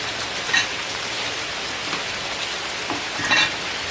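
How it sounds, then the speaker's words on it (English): Steady outdoor rain patters densely and evenly, with a few louder drops and splashes standing out from the constant wash. "Y'all hear that rain?"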